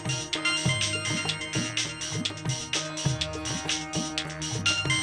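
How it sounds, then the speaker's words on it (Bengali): A mobile phone ringtone plays a bright, repeating electronic melody with a steady rhythmic beat, loud and close, continuing for the whole stretch with no voices. "এখন আবার কে ফোন করলো?"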